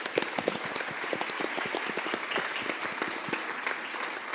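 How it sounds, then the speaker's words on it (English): Audience clapping for panelists at the close of a public panel on pollution and health, steady dense applause from a crowd, moderately loud and continuous throughout with no talk over it. "I think we can applaud our panelists."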